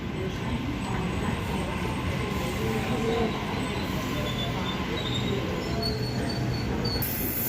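A train at a Central station platform in Sydney, with a steady, loud rumble of wheels and rolling stock that continues throughout and carries a faint high squeal.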